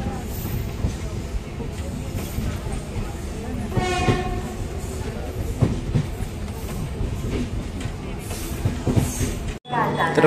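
A train rumbles at Khed railway station in the Konkan region, with steady wheel and engine noise, a horn sounding partway through and people's voices mixed into the continuous platform din.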